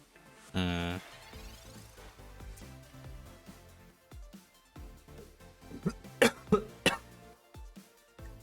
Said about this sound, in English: I'm getting a little bit of a tickly cough